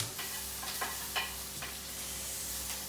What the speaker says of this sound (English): Fry them in frying pan.